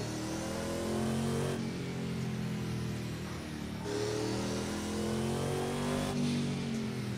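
A racing car engine in the video game Project Cars 2 revs and drones steadily, with the pitch rising and falling through gear changes, loud and alone without talk.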